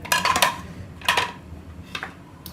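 Potatoes dropping into boiled chickpeas in a mixing bowl, heard as three clattering bumps of utensil and bowl spaced over a couple of seconds, close by with no talk.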